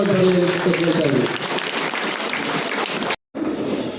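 Loud applause from an audience at a JD(S) party workers' meeting in Katriguppe ward, Basavanagudi, dense and sustained, with voices mixed in and a brief cut near the end.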